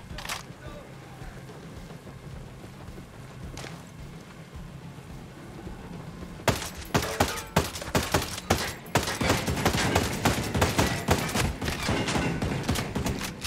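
Video game gunfire starts as a few scattered shots, then halfway through turns into a dense, loud burst of rapid shooting, with someone talking over it.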